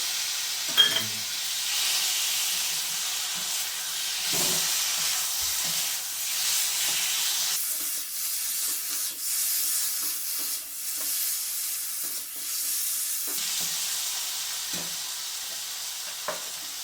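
Quarter kilo of washed chicken frying in a pan for a green chilli chicken dish, a steady close sizzle with a few soft clinks and stirring scrapes, no talking.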